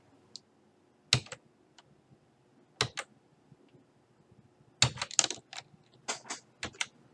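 Computer keyboard keys pressed while working in a code editor, in scattered single clicks and short bursts of rapid typing against a quiet background.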